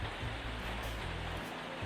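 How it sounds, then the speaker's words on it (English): Rain falls outside as a steady broadband hiss, fairly faint and continuous, with low rumbling noise underneath and no talking. "You may be able to hear the rain when I'm not talking."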